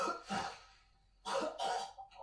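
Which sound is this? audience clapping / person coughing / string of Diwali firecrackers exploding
person coughing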